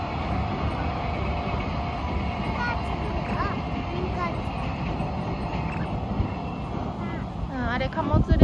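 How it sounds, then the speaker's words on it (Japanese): A freight train rolls past at a steady, continuous rumble that stays fairly even and swells louder near the end, with people talking faintly over it. "うん、あれ貨物列車。"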